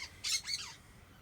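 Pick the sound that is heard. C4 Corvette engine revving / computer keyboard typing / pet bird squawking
pet bird squawking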